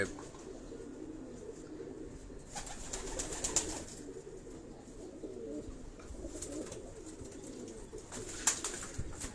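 Pigeons coo softly and repeatedly in low murmuring bursts, close by, over a steady background hum.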